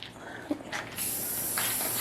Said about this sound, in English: He just sprayed you.